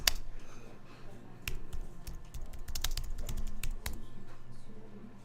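Typing on a computer keyboard, a quiet run of irregular clicking keystrokes close by, some in quick bursts, with no other sound.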